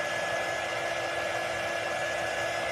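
A hair dryer blows steadily at close range, a constant loud rushing hum that never changes and has no voices over it.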